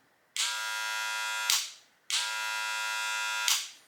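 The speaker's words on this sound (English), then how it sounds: "the Magic Clip, the way it turns on, kind of reminds me of the old magnetic clipper sound when you first turn on" A Magic Clip cordless hair clipper is switched on twice, each time starting with a sharp pop and settling into a steady, bright, buzzing motor whine that runs about a second before cutting off. It is close and loud, with no talk.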